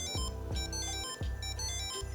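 Nomad tracker card emitting an alert through Apple's Find My app, a repeating electronic chime with a few sharp tonal pulses roughly every half second over a low background hum, faint and with no talking.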